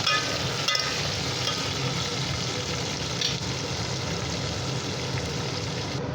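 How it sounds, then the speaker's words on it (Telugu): Spices frying in hot oil in a pan with steady, loud sizzling throughout and occasional stirring scrapes, close up with no talking. "ఇలా వేసి పచ్చివాసన పోయేంత వరకు ఇలా ఫ్రై చేసుకోవాలి."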